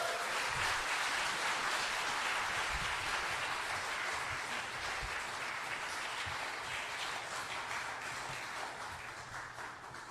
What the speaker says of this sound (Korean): 여러분 나오실 때 격려와 응원의 박수 부탁드립니다